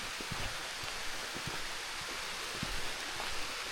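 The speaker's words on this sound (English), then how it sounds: "Yours truly is walking in the rain." Steady rain patters down through a tree canopy at Cedar Falls, Fork Shoals, South Carolina, a continuous soft hiss with scattered drips and footsteps rustling underneath, no one talking.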